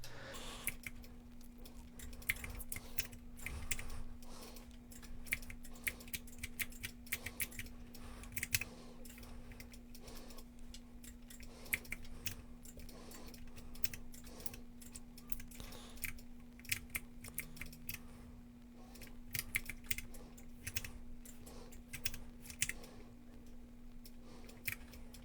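Rapid, irregular clicking of keys on a computer keyboard runs throughout during modelling work, close and fairly quiet, over a steady low electrical hum with no talk.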